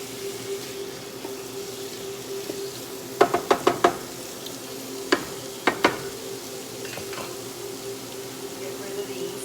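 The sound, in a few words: artichoke hearts frying in a pan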